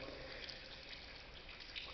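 Water splashing steadily inside a tunnel, a continuous broadband rush with faint dripping, close and even throughout with no talk.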